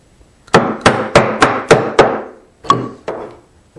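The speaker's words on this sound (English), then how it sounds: "keep my chisel at that angle while I chop" A chisel chops a mortise in wood by hand with a mallet: a run of six sharp, evenly spaced thwacks, a short pause, then two more blows, close and loud with no talking.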